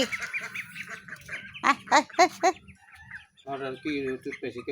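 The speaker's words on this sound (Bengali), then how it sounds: "কতগুলা হাঁসের বাচ্চা" Ducklings peep and call in short bursts at a village home while people talk nearby, the chirps mixing with and partly masked by the voices.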